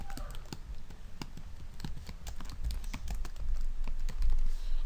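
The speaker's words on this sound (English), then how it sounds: "You can type in" Rapid, uneven clicks of typing on a computer keyboard while entering text in photo-editing software, a steady close patter running through the whole stretch with a low hum underneath.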